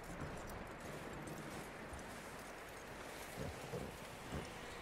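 In Red Dead Redemption 2, horses clip-clop over steady wind-like ambience, with faint scattered hoofbeats that grow a little clearer toward the end.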